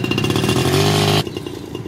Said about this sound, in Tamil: இப்போது ஆக்சிலேட்டர் கொஞ்சம் கொஞ்சமாக ரைசிங் க்ளோசிங் ப்ராக்டிஸ் தான் போயிட்டுருக்கு.